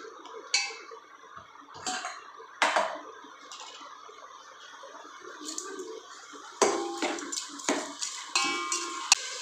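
Tomatoes with rock salt are stirred in a pan over high flame, with scraping of a spoon against the metal, scattered clinks and soft sizzle, growing busier and louder toward the end.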